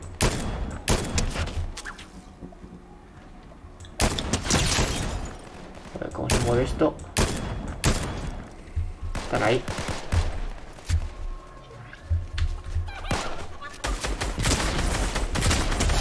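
Video game gunfire, with repeated bursts of automatic fire and sharp single shots cracking through a battle, loud and close, mixed with thuds and booms while players talk over it.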